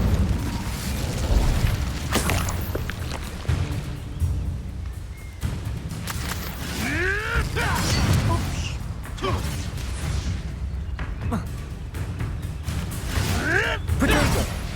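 In a Hogwarts Legacy duel, an Incendio fire spell bursts out with whooshing, booming blasts and crackling magical effects, several loud impacts spread through a busy combat soundscape with scattered game voices.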